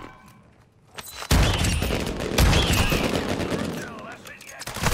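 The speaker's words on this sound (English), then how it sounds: "We have a sentry gun here." A sentry gun in a video game fires a sustained, loud burst of rapid gunfire lasting several seconds after a brief quiet lead-in.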